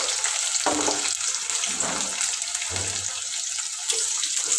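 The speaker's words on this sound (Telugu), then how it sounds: "ముందుగా తరిగి పెట్టిన ఉల్లిగడ్డ మనం నూనెలోనే మగ్గించుకోవాలి" Chopped onions frying in oil, a continuous close sizzle with occasional stirring scrapes and no talk.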